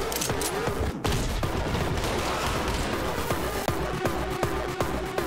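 Enemy gunfire in the first-person action game Anger Foot, with rapid repeated shots in a dense, loud fusillade running throughout, sharp cracks layered over a constant busy din.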